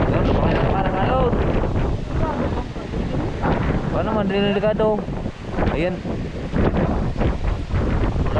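Strong storm wind buffets the microphone while big waves surge and crash at sea aboard a boat, and people talk excitedly over the roar.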